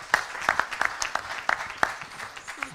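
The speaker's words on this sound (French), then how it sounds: "je crois qu'on peut applaudir" Sparse, scattered clapping from a small audience at a French economics round-table on rurality, a few distinct hand claps spread across the moment rather than a full ovation.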